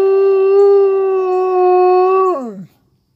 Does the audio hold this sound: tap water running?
no